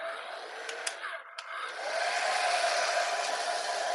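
A dryer blows continuously and close by to dry paint on a sign, with one short dip partway through before it picks up again to a steady, slightly louder whoosh.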